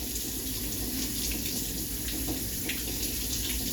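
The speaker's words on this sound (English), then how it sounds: "rewash your tomatoes," Tap water running steadily over tomatoes in a colander container with holes in the bottom, a close, continuous splashing hiss with no talking.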